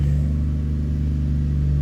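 The engine of a 2005 Chevy Trailblazer with a misfire under load runs at a steady, close, low rumbling idle, loud and unbroken.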